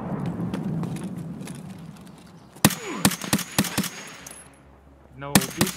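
Gunfire in the video game Escape from Tarkov: a rapid string of sharp, loud shots cracking out in bursts after a stretch of murmuring background noise, with a last cluster near the end.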